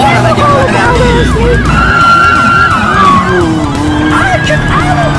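Police siren wailing during a car chase, its rising and falling tones sweeping repeatedly over loud engine and road noise, with people talking excitedly throughout.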